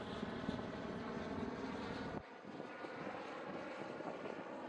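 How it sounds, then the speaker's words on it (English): An aircraft roars past overhead during a retirement ceremony flyby, a loud sustained engine rumble that drops in intensity halfway through as it moves away. "Ben, you asked for this flyby, so I'm going to do it."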